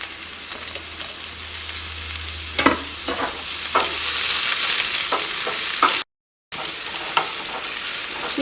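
Onion, ginger and green chilli hiss and crackle steadily in a hot pan, with a few scraping stirs cutting through the loud sizzle and a brief dropout partway.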